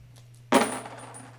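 Quarters rattling on a shaken platform, one sudden close metallic clatter of coins that quickly settles into a short fading jingle.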